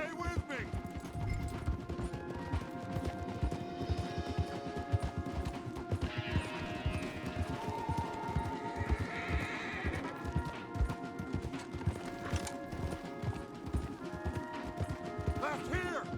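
Several horses gallop hard in Red Dead Redemption 2, rapid rhythmic hoofbeats with whinnies and neighs over the top, close and continuous, with voices and game music mixed in.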